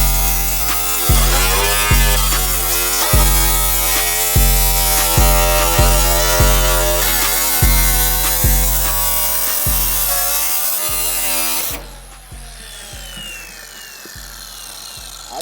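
A power tool saws through the sheet-metal roof of a cat-eye Impala to fit a sunroof, a loud buzzing drone broken by a dozen rapid stutters and cut pauses, then dropping to a quieter, thinner grind near the end.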